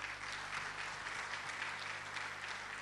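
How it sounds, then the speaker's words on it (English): Audience at a convention in Mumbai applauding steadily, a dense, even wash of clapping that holds at a constant level throughout without any talk over it. "Can we have a round of applause, ladies and gentlemen?"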